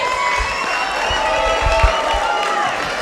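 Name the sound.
wrestling crowd cheering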